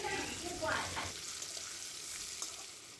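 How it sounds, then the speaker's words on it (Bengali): Pumpkin pieces frying in hot oil until reddish-brown give off a steady, close sizzle with some stirring noise, loudest early on and then easing off slightly over the short stretch. "কুমড়োগুলো আমি একেবারে লাল লাল করে ভেজে নিচ্ছি।"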